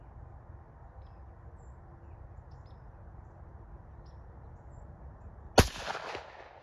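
A .300 Blackout rifle fires a single sharp, loud shot at a pumpkin outdoors, a sudden crack followed by a brief echo after several seconds of quiet ambient background with faint bird chirps.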